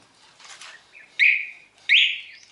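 Two sharp electronic chirps sound close together from a motorcycle alarm remote locking, each a bright rising tone, preceded by faint softer bleeps; no talking.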